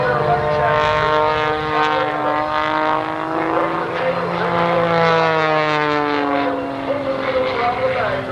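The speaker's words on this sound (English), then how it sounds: "Engine torque now turning the airplane around" At the 1989 Oshkosh airshow, an aerobatic propeller airplane flies a hammerhead and a torque roll. Its loud, harmonic engine drone rises and falls in pitch as the plane pivots, and commentary can be heard beneath it.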